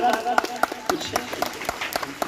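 Schoolchildren clap in welcome for a newly elected class monitor at a school election result: a series of sharp, evenly spaced claps from a small group, fairly close and moderately loud, with faint room noise between them.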